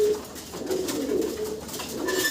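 Fancy tiger-coloured pigeons at a wholesale pigeon seller's coo softly nearby, low murmuring calls running throughout with faint background noise and no talk.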